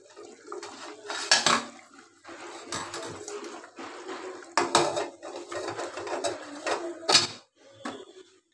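A spoon stirs and scrapes curry being sautéed in a metal pot, producing repeated clanks and grinding scrapes in uneven bursts with short pauses between them, close and moderately loud.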